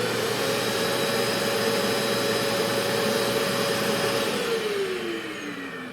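A Festool CT MIDI dust extractor switched on and running, a loud close steady whooshing roar with a high whine that drops slightly in pitch near the end, no talk.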